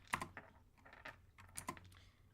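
Quiet typing on a computer keyboard: irregular clusters of soft key clicks with short pauses between bursts, close and alone.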